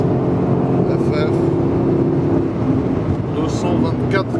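Supercars including a Lamborghini Aventador, Porsche Turbo S and Ferrari FF roar along a road at high speed, a loud continuous engine and wind drone from inside a car with rushing air noise throughout.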